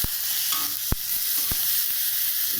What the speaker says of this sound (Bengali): তো মটরশুঁটিগুলো ঢেলে দেওয়া হলো।